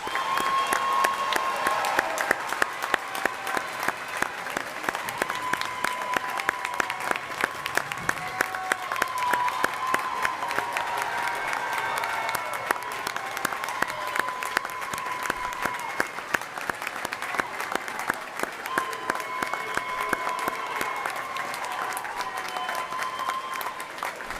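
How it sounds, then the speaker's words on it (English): Sustained applause from a graduation ceremony audience honoring the graduates, dense steady clapping filling the hall at an even level for the whole stretch, with no voices on top. "Please join me in a well-deserved round of applause for all of our graduates."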